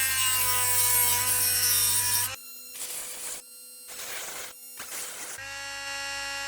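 A small file or blade trims the pinion shaft of an old FK slot car motor, cutting in short rasping strokes with brief pauses between them, close and alone against a steady motor hum at the start and end.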